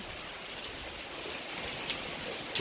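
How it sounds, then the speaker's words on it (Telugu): Dense, steady rush of heavy rain pouring down during a thunderstorm, a loud even hiss with no voices or breaks. "వర్షం మాత్రం తెగ పడతా ఉంది"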